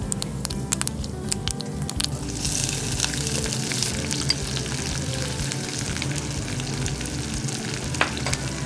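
Mustard seeds, dill seeds, fenugreek and Sri Lankan cinnamon fry in hot coconut oil in a pan, crackling and popping in a lively sizzle with sharp spits and pops scattered through it, loud and close, with no talk.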